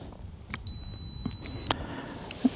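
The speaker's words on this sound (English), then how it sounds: "So once again, I'm on a 2 second timer." A camera's two-second self-timer during an outdoor landscape shoot at Lindis Pass beeps in short, bright chirps, then gives one sustained tone before the shutter, fairly close against quiet wind.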